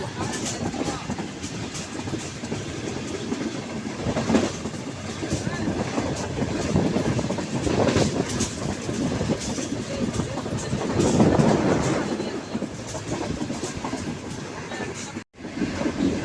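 An Awam Express passenger train with an HGMU-30 diesel locomotive rumbles steadily along the tracks through mountains in Pakistan, a continuous broad roar with faint rhythmic clatter, heard from nearby for a long stretch.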